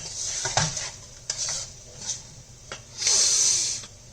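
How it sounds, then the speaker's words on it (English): Spiced eggplant with red chilies sizzles in a hot pan with a steady hiss, broken by scraping utensil clinks and a louder sizzling surge near the end. "We'll fry this for about 3 minutes."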